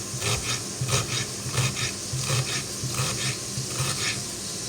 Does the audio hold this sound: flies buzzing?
no